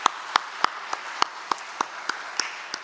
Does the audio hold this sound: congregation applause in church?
yes